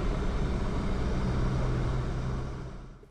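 An electric airplane on a flight, a steady broadband drone that holds level and then fades away near the end, with no voices.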